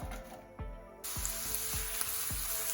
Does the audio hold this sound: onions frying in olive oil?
yes